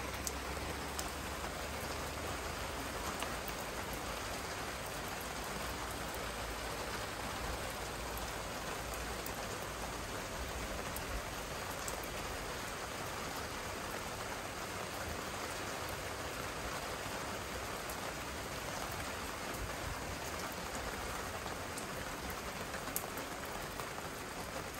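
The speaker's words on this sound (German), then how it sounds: "Regnet." Rain falls steadily and evenly for a long stretch, a dense hiss of drops on surfaces with no pauses and no other sounds standing out.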